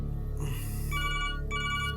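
A telephone rings in two short electronic bursts over a low background hum, fairly close and clear.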